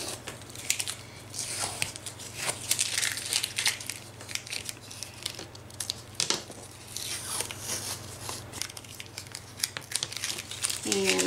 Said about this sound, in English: once our picture frame is dry, we're gonna take our tape off